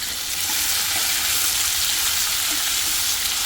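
Onions sizzle and fry steadily in a hot pan while being cooked down for veg biryani, a continuous close hiss with faint stirring and no talk.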